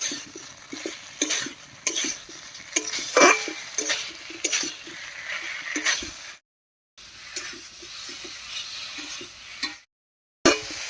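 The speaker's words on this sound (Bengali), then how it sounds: "এবারে আলু আর কুচিকেও ভালো করে কষিয়ে নেব" Potatoes and taro are fried and stirred in spice paste in a pan, with a soft sizzle under repeated scraping and clinking of a spoon against the pan, broken by two brief silent gaps.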